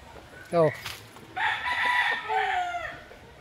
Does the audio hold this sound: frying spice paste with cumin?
no